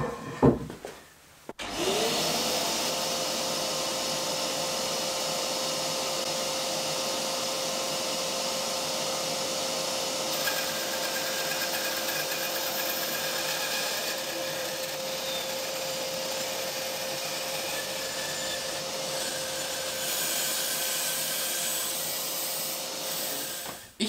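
Bandsaw freshly fitted with a new saw band cutting wood, a steady loud whine with a sustained tonal hum running unbroken for over twenty seconds after a brief start-up.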